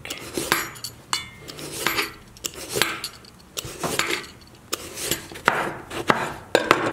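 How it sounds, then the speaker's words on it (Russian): A knife chops eggplant into small cubes on a cutting board in quick, uneven strokes, sharp taps and clacks repeating close by with no talking. "Мелко нарезаем в кубиках"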